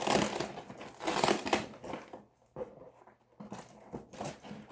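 A Velcro case being pulled open, a rough crackling rip of tearing fabric fasteners up close, fairly quiet, with a few softer scratchy rustles after.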